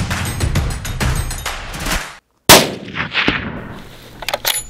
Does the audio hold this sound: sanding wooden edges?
no